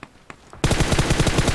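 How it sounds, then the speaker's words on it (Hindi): Automatic weapon fire in PUBG Mobile: after a few faint distant pops, a loud close burst of rapid, evenly spaced shots starts abruptly and keeps going to the end. "गोलियां चल रही वहां से"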